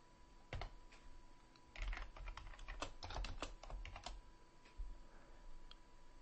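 Rapid typing on a computer keyboard, with bursts of quiet, close key clicks and short pauses between runs of keystrokes, no talking.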